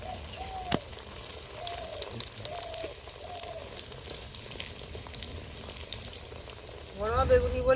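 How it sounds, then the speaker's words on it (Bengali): Beguni eggplant fritters deep frying in a little oil for a crisp finish give a steady, close sizzle and bubbling throughout, with faint chirping in the background and a louder burst near the end. "এবার একটু ডিপ করে ভেজে নেবো।"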